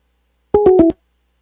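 A phone line busy signal after the caller hangs up on a podcast call-in: four short, loud, evenly spaced tones, clean with no talk over them.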